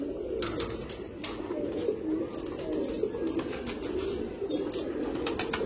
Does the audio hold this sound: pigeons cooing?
yes